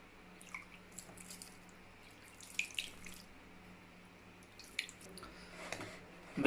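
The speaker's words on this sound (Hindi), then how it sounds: "अब मैं पानी डालूँगा।" Water poured into a bowl of spiced gram flour for potato and onion pakora batter, with faint trickles and wet squishing sounds plus a few louder splashes near the end, no voices.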